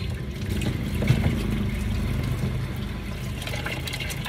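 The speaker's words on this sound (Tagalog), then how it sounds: "Huhugasan na natin." Ampalaya (bitter gourd) being washed in a basin of dark, dirty water, with steady sloshing and splashing of water close by, continuous throughout and with no talking.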